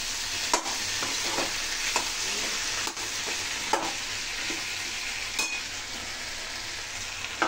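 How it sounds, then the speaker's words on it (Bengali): Okra and potatoes fry and sizzle steadily in a pan, with occasional soft scrapes and taps of stirring over the constant hiss. "আর একটুখানি ভেজে দেবো।"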